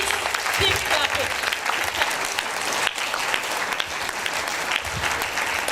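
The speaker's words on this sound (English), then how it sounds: "Please keep clapping." Sustained audience clapping at a space ambassador scheme launch ceremony in Nigeria, a dense, even wash of applause from a crowd lasting several seconds.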